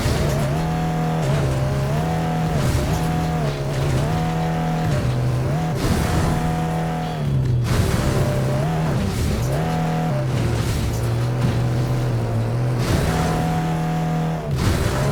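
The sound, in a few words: car driving at full throttle in video game Fuel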